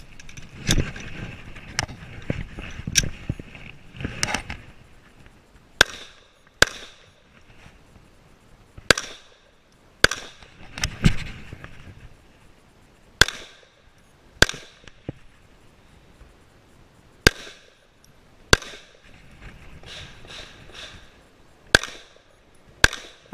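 Pistol shots fired through an IDPA shooting stage, arriving as a long series of sharp, loud cracks in pairs and clusters with brief pauses between them.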